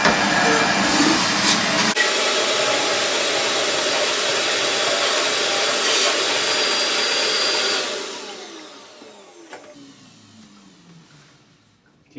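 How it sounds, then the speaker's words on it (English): A vacuum sucks antifreeze out of a toilet bowl and tank in a cabin being winterized, a loud, steady roaring whoosh that runs for several seconds, then winds down and fades to near silence. "Now I'm just going to suck the toilet out, the bowl, the tank"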